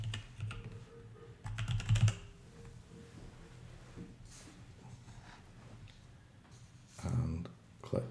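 Computer keyboard keys are typed in short close bursts while a name is entered in Grid 3 software during a webinar, with a voice speaking around the typing.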